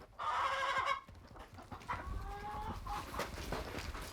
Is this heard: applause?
no